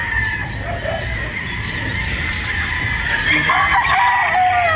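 A Boston Roundhead gamefowl rooster at a game farm crows among other fowl, calls and clucks rising over a steady farmyard background with a faint constant tone, growing more active toward the end, without speech.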